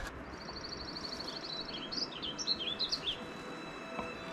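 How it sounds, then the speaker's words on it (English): Several birds sing and call back and forth in a snowy mountain backcountry setting in spring, a run of bright chirps and tweets growing busier midway and answering one another at moderate distance over a quiet, steady background hiss. "It could be like a male and a female communicating with each other. Maybe it's mating season for the birds right now."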